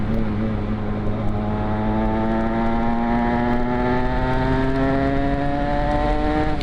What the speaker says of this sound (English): That when the power valve opens up, it's almost like a Honda with their VTEC.